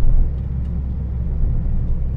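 A Saab 9-5 Turbo4 fitted with a custom exhaust and mufflers cruises along, a steady close, deep bassy rumble with little drone and no voices.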